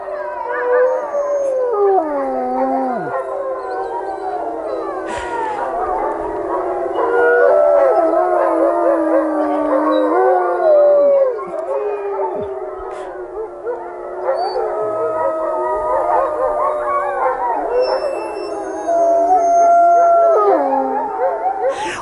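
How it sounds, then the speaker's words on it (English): Wolves at a wolf sanctuary howl together in a long overlapping chorus, several rising and falling voices with occasional yips, fairly close and steady for the whole stretch with no talking. "you get to listen to them howling every single day"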